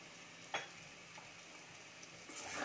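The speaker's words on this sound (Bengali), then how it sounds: "মশলাটা ভালো করে কষিয়ে নেব" Masala spices fry faintly in a pan while cooking vegetarian aloo dum. A soft, steady sizzle runs throughout, broken by a couple of small stirring scrapes.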